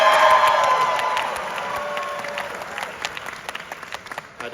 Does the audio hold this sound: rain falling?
no